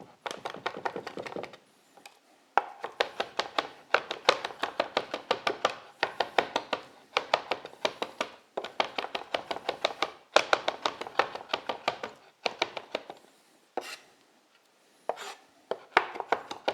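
Rapid knife chopping on a cutting board, mincing food for a katsu sando, in dense rhythmic bursts of sharp close taps separated by short pauses.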